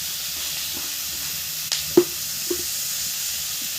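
Pork fries with chilli powder in a pan over a smoky wood fire, giving a steady, soft sizzle and hiss with a few sharp crackles and pops partway through.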